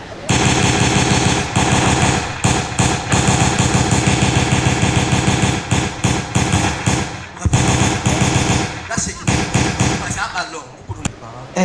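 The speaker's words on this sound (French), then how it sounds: "Eh, les sons de balles." A machine-gun sound effect: loud, dense bursts of rapid gunfire that hammer on almost continuously, broken only by short gaps, and thin out toward the end.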